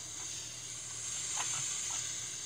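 Burger patties sizzling on a grill in the Hamburger Simulator video game, a steady synthetic hiss running throughout at even loudness, with a few faint soft bumps and no voices.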